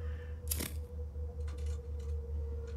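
A single quick snip of scissors cutting a pillow in the video game Hello Neighbor 2, a short crisp burst followed by faint clicks over a low steady game hum.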